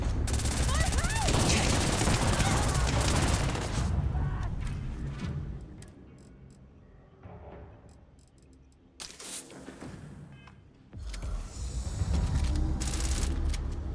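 Heavy sustained automatic gunfire in the video game Starfield during a space battle, loud bursts and rapid rattling fire that thin out mid-way before a second intense burst returns.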